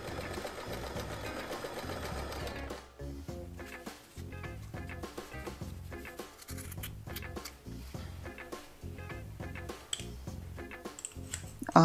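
Sewing machine zigzag stitching strips of old jeans, a fast rattling, ticking run of stitches with brief pauses and restarts, close and alone.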